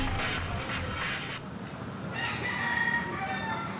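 Roosters crowing, some of nearly 400 fighting cocks imported from America and held by animal-industry officials, loud close cock-a-doodle-doo calls over a steady noisy background with clucking.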